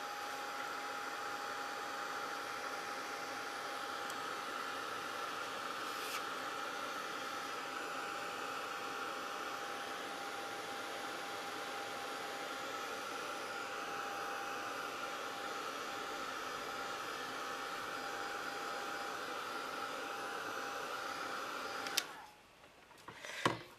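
A hair dryer-style heat tool blowing steadily on a mixed media craft piece, a continuous loud whooshing hum close by for about twenty-two seconds before it switches off abruptly.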